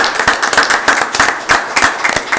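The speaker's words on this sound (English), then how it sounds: "Let's give them a round of applause." A small group claps for volunteers at a county commission meeting, quick, steady, close hand claps continuing without pause for a couple of seconds.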